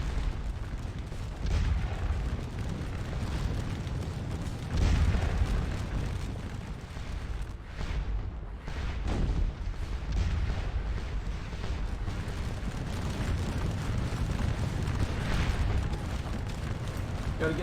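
Artillery fire in a Napoleonic Waterloo battle, likely a video game, comes as a continuous dense rumble of distant cannon booms with occasional louder blasts, steady in loudness throughout.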